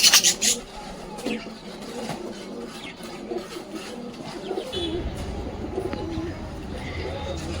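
Domestic pigeons at a home loft, one a grown youngster, coo repeatedly nearby after a sharp loud burst at the start, with soft background rumble.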